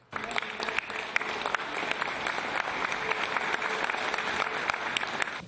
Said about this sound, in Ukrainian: У стінах храму лунають оплески і слова вдячності.